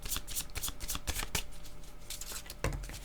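A deck of playing cards being shuffled at close range, a rapid run of riffling bursts and soft slaps repeating across the stretch with no talk.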